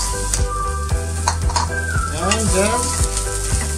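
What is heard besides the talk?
onion frying in oil on a tawa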